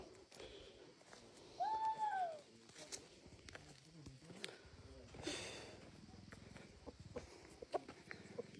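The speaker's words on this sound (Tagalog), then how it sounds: "So may mga alagang manok sila" Chickens cluck and call intermittently outdoors over a muffled background of voices and movement.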